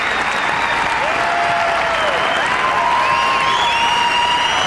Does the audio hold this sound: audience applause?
yes